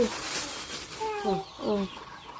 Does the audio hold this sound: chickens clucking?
yes